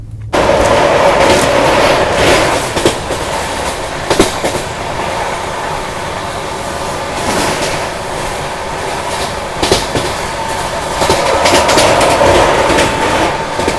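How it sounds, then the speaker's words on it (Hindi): The Delhi to Mumbai Rajdhani Express runs along the tracks, giving a steady loud rumble with rhythmic clickety-clack wheel beats and occasional sharp clanks and faint squeals, heard from on board. "अभी अपनी ट्रेन ओवरटेक करने वाली है योगनगरी ऋषिकेश हुबली वीकली एक्सप्रेस को।"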